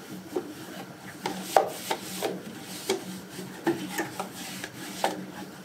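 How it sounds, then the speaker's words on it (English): Lard is rubbed by hand onto a Pullman loaf pan, a series of soft, quiet scuffing strokes in irregular rhythm, close by with no talk. "Let me grab some lard real quick. I'm just gonna do a quick rub down, just a little bit."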